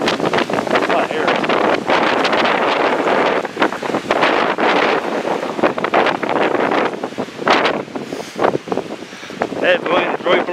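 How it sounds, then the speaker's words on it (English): Strong storm wind roars outdoors in loud, gusting bursts that buffet the microphone, with a person talking intermittently beneath it. "That wind is really blowing out here."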